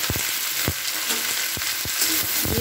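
Chopped mixed vegetables hit hot oil in a pan, bringing a loud, close, steady sizzle broken by several sharp clinks and scrapes of stirring, with no voices.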